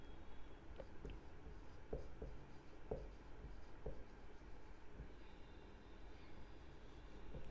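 Faint chalk or marker writing on a board in a math class, heard as a series of light irregular taps and short strokes over quiet room hum.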